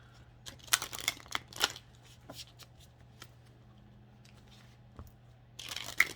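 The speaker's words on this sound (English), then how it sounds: "Let me shuffle a little more." Tarot cards are shuffled in quiet bursts of crisp riffling and soft slapping, with pauses between, close and fairly faint, ending in a louder flurry of shuffling.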